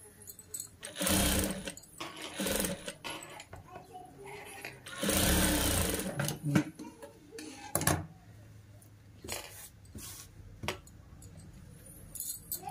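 A sewing machine stitches a hem while a frock is made from an old saree, running in several bursts of whirring with pauses between, close and fairly loud, plus some handling clatter.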